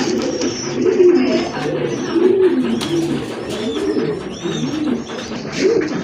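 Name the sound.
fancy pigeons cooing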